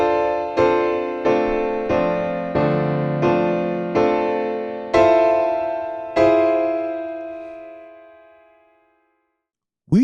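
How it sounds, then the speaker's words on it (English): Piano phrase in block chords: seven full chords struck one after another at a steady pace, the last ringing out and fading to silence, close and alone. "So now when we play this little phrase in block chords,"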